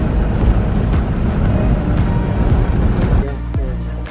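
A Land Rover Defender drives along Dartmoor moor roads, its engine and road rumble heard close from inside the vehicle, steady then shifting as it changes speed near the end.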